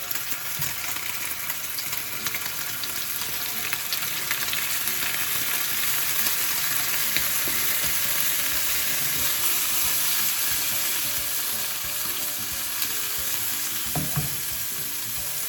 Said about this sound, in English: we're gonna drop these little mozzarella wrapped with prosciutto and pan sear